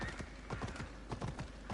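Horse hooves clip-clop in a steady trotting rhythm, close and clear, with a brief whinny near the start, in the video game Assassin's Creed Odyssey.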